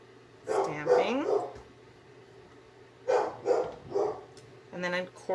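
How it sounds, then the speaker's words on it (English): A loud dog indoors near an open door barks at someone on the street, two or three clusters of sharp barks separated by pauses, close by, with some speech mixed in. "Pardon my dog, he's barking at somebody on the street"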